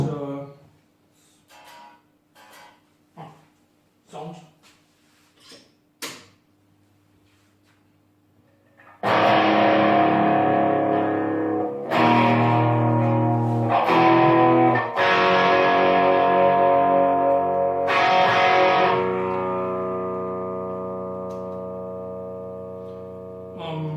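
A TimeBomb VI tube amplifier with its bright caps removed sounds loud and sustained, with overdriven guitar chords ringing and decaying over several bursts after a few short, faint plucks.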